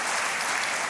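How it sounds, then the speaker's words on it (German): Studio audience applause on a German TV cooking show, a steady dense wash of clapping that holds loud and even from start to finish with no voices over it. "Das ist Applaus."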